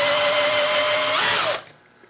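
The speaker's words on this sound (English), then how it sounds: "So you just have to drill out this rivet" A power drill whines steadily at high speed, its pitch dropping slightly as it bites through a metal rivet in a Lutron Maestro dimmer switch, then cuts off abruptly into near silence.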